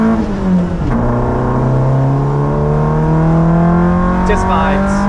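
The engine of a Peugeot 106 on the Nürburgring rises steadily in pitch as the car accelerates hard, loud and close from inside the cabin, with a quick gear change near the start and another toward the end.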